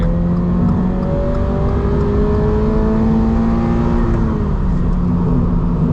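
A Toyota GR86 sports car accelerates steadily while making a pass, its engine note climbing and holding loud and close from start to finish with no talk over it.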